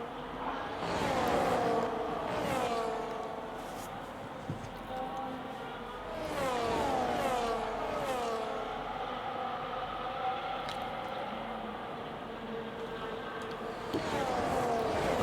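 Race cars, one of them a Cadillac, run side by side at the Abu Dhabi circuit, engines rising and falling in pitch as they pass and shift, fairly loud and steady throughout.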